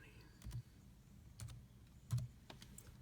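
Soft computer keyboard keystrokes tapped out in a few separate presses over a low background hum, with no talking.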